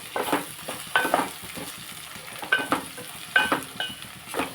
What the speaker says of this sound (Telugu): రెండు నిమిషాలు వేగించి తీసేసుకుంటాం